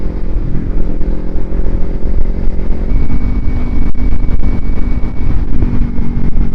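A Kawasaki Ninja 300 motorcycle engine drones steadily and loudly while riding, a close, continuous rumble with slight shifts in pitch and no talking over it.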